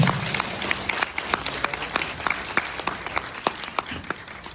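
An audience claps at the close of a Q&A after a graduation film screening at the Korean Academy of Film Arts festival: dense, crisp applause with distinct hand-claps standing out, steady and near, without speech.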